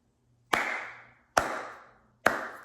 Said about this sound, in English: Yeah, I'm gonna give you a clap